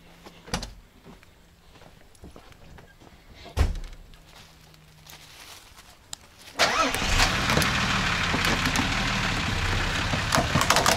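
A Nissan Safari Y60 off-roader on 37x12.5 R15 Maxxis Creepy Crawler tyres, with a couple of door thuds before the engine starts and settles into a steady, loud, close rumble as it pulls forward.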